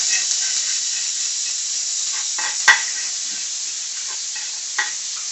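Finely chopped onion fries in hot oil, giving a steady, loud hiss and sizzle throughout, with a few soft clicks of stirring.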